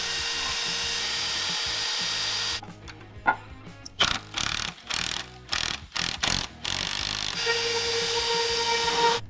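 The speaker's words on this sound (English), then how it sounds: "So I'm drilling a pilot hole, 1/4 inch," A cordless drill bores a 1/4 inch pilot hole through a part on a homemade battery-powered car, heard as a series of short, loud whirring bursts with brief pauses between them, close by.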